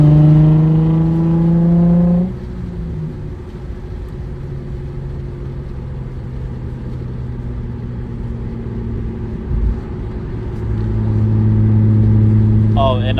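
Manual Nissan 350Z driving with a steady engine drone that rises and revs near the end, a person talking over it in the cabin.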